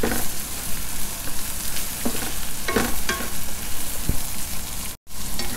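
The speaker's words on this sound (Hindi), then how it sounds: "गाजरों को 2-3 मिनट भून लेने के बाद" Finely chopped carrots being fried with chicken in ginger garlic paste for veg fried rice hiss in a dense, loud, continuous sizzle, broken by a few stirring scrapes and a brief dropout near the end.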